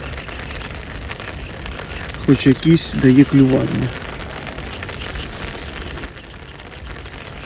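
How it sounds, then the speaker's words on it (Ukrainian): Steady patter of rain on a surface fills the whole stretch during float fishing for crucian carp, with someone speaking briefly partway through. "І ще й припустився дощ, бачите"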